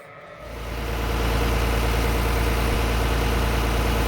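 An old tractor engine, with its hydraulic pump turned off, catches and quickly settles into a loud, steady diesel idle with a deep, even throb.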